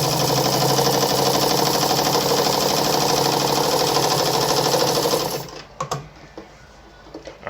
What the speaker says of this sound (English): I'm gonna just reduce the stitch length a bit so you can see for yourself